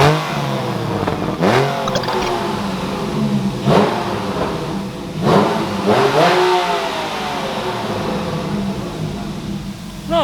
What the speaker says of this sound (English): Let's see how good this exhaust that we put in it